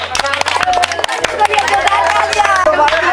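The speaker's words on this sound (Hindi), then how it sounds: "चलिए जोरदार ताली मारिए इनको लिए।" An outdoor crowd at a football kick challenge applauding a contestant, with brisk clapping mixed into busy crowd noise and talk, fairly loud and close.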